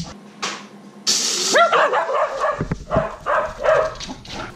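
A dog barks indoors at a coffee cabinet and grinder, sending several loud, close, sharp barks with yips and whines in irregular bursts and no talking.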